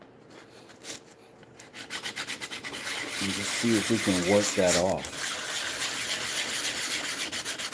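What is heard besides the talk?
sanding wood with sanding block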